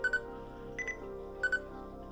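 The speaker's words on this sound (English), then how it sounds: "There are beeps on this camera. I like to hear the beep." A Nikon D7000 camera gives short double beeps, a pair at the start, a slightly different double tone in the middle and another pair near the end, set against a steady low hum.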